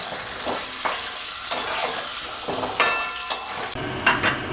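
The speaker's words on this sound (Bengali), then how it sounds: "এই আলুটা এমনভাবে ভাজতে হবে ভাজতে ভাজতেই কিন্তু আলুটা অনেকটা সেদ্ধ হয়ে যাবে" Potatoes fry in hot oil with a continuous sizzle, punctuated by regular sharp scraping clinks of a spatula stirring in the pan.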